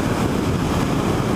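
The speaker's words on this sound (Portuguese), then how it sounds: "Nossa! Muito vento" Loud, steady wind roar buffets the microphone on a Honda CB 500F motorcycle ridden at top speed, around 170 km/h on a road, a continuous broadband rush with no voices.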